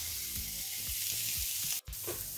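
Minced garlic and finely chopped onion frying in olive oil give a steady close hiss with soft stirring scrapes and one brief dropout near the end.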